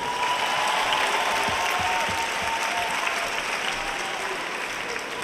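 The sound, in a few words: audience applause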